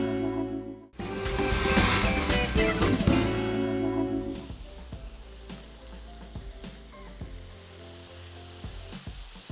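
Food frying in hot oil, a loud, dense sizzle that starts abruptly and then settles into a quieter, steady crackle with scattered pops.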